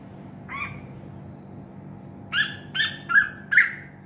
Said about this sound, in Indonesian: Tengok bunyi apa tu, burung tu.